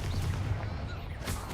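A Confringo fire spell blasts in Hogwarts Legacy, a close, loud booming burst that rumbles and fades, with a second sharp blast at the end.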